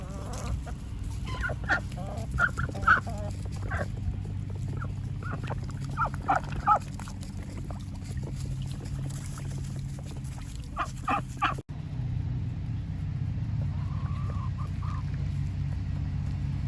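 Flock of chickens and waterfowl outdoors on a farm, clucking and calling in scattered bursts over a steady low rumble of background noise, fairly close, with a brief quiet stretch near the end.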